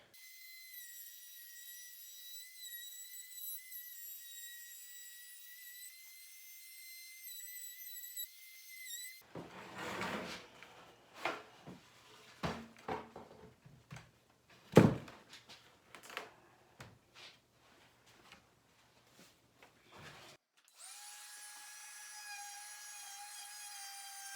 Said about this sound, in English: I'm going to use a 3/8 inch roundover bit to go along all of the edges on this side as well as the underside